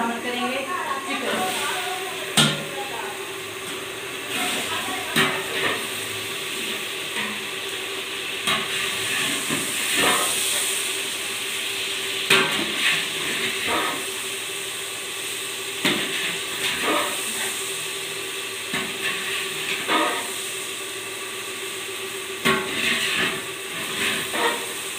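Chicken sizzles in hot oil with garlic in a pot during biryani preparation, a steady loud hiss and crackle throughout with occasional sharper spatters, close by, and a voice speaks over it at times.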